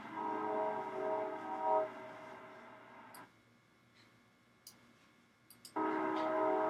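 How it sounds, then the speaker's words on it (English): A train passes at a distance on an outdoor golf practice range, a low steady rumble with faint high squeals, briefly dropping away before the rumble returns strongly. "I love the sound of that train."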